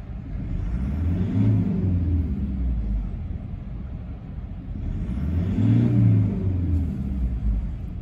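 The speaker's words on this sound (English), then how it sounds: "It's like a new engine, smooth as silk." A rebuilt diesel engine with a new turbo and injectors idles smoothly and steadily, with a low rumble that swells gently twice, close by and with no voices.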